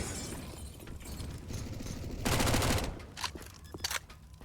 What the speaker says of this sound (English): Naf running and gunning with a Mac 10.